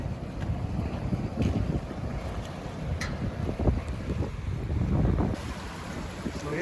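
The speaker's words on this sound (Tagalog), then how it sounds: "mahangin ngayon" Wind gusting steadily by the Davao River near a coastal road bridge project during a typhoon, a continuous rumbling buffet on the microphone with water wash beneath, no voices.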